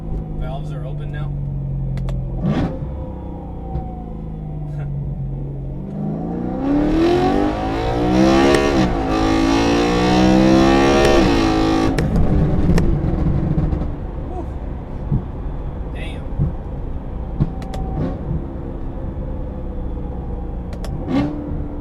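Revving engine of a BMW E93 M3 with a DCT gearbox and exhaust valves open, rising to a loud, sustained climbing roar in the middle before settling back to a steady idle-like drone, with people talking over it.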